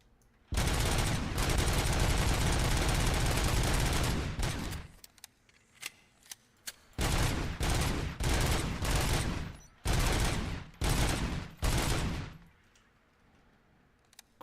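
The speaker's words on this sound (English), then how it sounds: "Fucking machine gun, not a pistol." Machine gun fire on a shooting range in the RoboCop video game: a loud sustained burst of about four seconds, then a string of shorter bursts and single shots with brief gaps, no speech.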